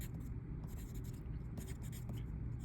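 Pencil scratching across paper while a word problem answer is written out, a steady close scraping texture with short strokes continuing through the clip.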